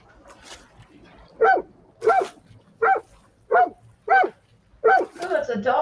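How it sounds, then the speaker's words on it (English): A dog barks six times in a steady series, sharp and close, each bark separated by short pauses, with a faint voice in the background before the barking begins. "Oh, that's a dog."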